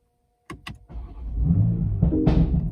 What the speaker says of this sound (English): Sport mode, start it up.